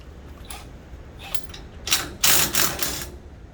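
A ratchet loosens the dovetail end bolt on the passenger side of a Mow and Go Systems swing arm, giving bursts of rapid clicking, near and fairly loud, with a few softer clicks before.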